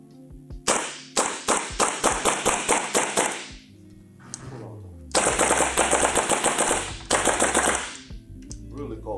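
A GHK AKS74U gas blowback airsoft rifle fires rapid full-auto bursts of sharp, close, loud cracks, with a brief pause and a low mechanical sound between two long strings of shots.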